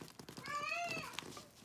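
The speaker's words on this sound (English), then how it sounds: "There's my kitty, and she's upset about something." A domestic cat meows in a drawn-out, rising and falling wail lasting about a second, fairly close and clear over a quiet room with light background shuffling.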